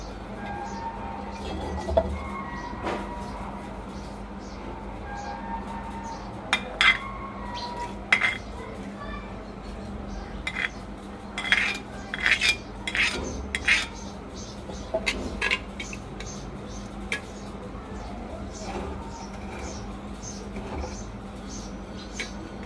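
A spoon stirs onions in oil inside a clay handi, giving scattered sharp scrapes and clinks against the pot over a low steady hum, loudest in irregular bursts through the middle.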